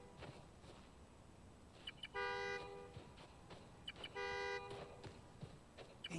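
A car horn triggered by a remote key in Spider-Man: Miles Morales, two distinct honks a couple of seconds apart, heard faintly at a distance over city ambience.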